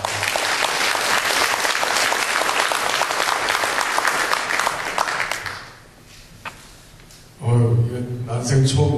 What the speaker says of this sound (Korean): 큰 박수로 청해 드리겠습니다.